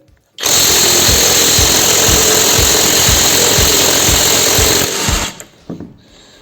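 A Dnipro-M DTW 202 BC cordless impact wrench in a service garage hammers hard at a stuck, hot wheel nut, a loud rapid rattling burst lasting nearly five seconds with a regular pulsing beat before it stops abruptly.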